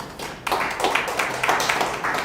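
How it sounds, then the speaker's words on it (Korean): Congregation in a Korean church clapping during a Wednesday worship service, a short burst of rhythmic group claps beginning abruptly and continuing in uneven pulses for about two seconds. "하나님께 영광의 박수를"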